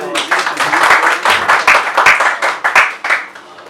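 An audience claps at a gathering for a recitation of Sufi kalam, with loud, close, rhythmic bursts of applause and voices mixed in.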